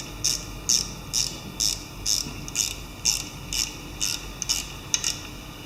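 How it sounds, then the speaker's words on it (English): A ratchet tightens down the fuel pump on a Lister LP4 engine, giving a steady series of about eleven evenly spaced, close clicking strokes with no talking. "Tighten the fuel pump down."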